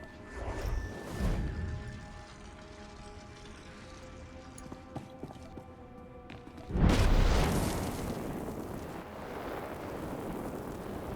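A loud explosion destroys equipment in Star Wars: The Old Republic, a sudden heavy blast bursting after a quieter stretch of ambient hum and faint thuds, then trailing off into rumbling debris.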